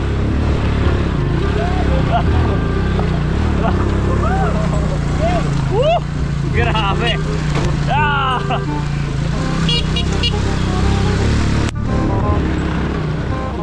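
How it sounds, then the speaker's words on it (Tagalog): An all-terrain motorized tricycle grinds steadily over rough ground, its engine a constant loud drone with jolts and rattles, while people talk and exclaim over it. "All-terrain tricycle pala ito. At may kasama pang all-terrain drivers."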